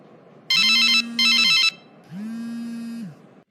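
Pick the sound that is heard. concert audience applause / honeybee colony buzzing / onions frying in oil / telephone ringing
telephone ringing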